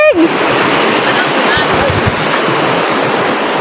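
River water rushes across a footpath in a loud, steady, unbroken roar of flowing water close to the microphone, with nothing else standing out.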